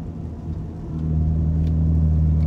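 Ford Kuga 1.5T turbo fitted with a modified valved side exhaust and aftermarket blow-off valve: a low, steady exhaust drone that swells louder about a second in as the throttle is eased open, then holds a deep hum.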